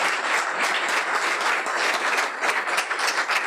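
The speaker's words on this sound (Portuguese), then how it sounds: "primeiro uma salva de palmas para o Dr." An audience gives Dr. Honorato a round of applause after his talk at an aeronautics conference, with dense, steady clapping throughout.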